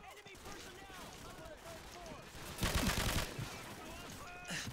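Rapid automatic gunfire in the video game Call of Duty 4 Modern Warfare, a loud sustained burst erupting midway over a continuous backdrop of distant battle noise and scattered shots.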